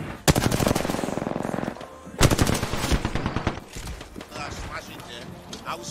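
Rapid automatic gunfire in a tactical shooter video game, two long loud bursts of closely spaced shots followed by scattered single shots, with a player talking over it.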